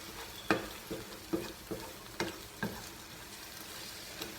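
Eggs for scrambled eggs are mixed in a container, producing a quiet bed of noise broken by several sharp knocks and clatters of the mixing tool at irregular intervals, with no speech.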